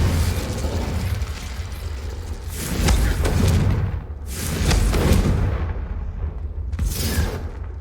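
Spell explosions from the Bombarda and Confringo spells in the Hogwarts Legacy video game: several loud booming blasts with crackling bursts, separated by short rumbling gaps, and no talk over them.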